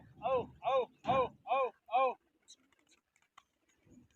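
Racing pigeons released in a long-distance flying contest coo five times in a steady rhythm, close and clear, before the clip falls mostly quiet with a few faint ticks.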